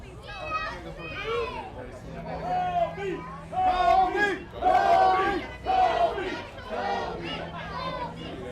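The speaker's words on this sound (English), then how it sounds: "The crowds are booing Burnham, booing God's Work" A crowd at an independent pro wrestling show jeers and shouts in loud surging waves, voices rising and falling in a rowdy booing chorus, with some children's cries mixed into the dense crowd noise.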